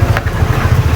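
A boat motor runs close by as a low, loud, steady rumble with a slightly pulsing throb, heard alone in a brief stretch.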